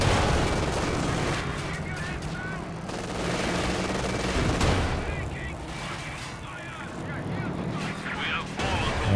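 Tank cannon fire and battle noise from a Company of Heroes 2 match, with Panzer IV tanks in combat, forming a dense, continuous din of booms and crackling without clear breaks.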